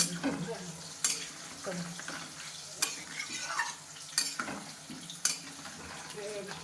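Coriander powder stirred in a frying pan, a spatula scraping in sharp strokes every second or so over a soft sizzle, close by, with faint voices in the background.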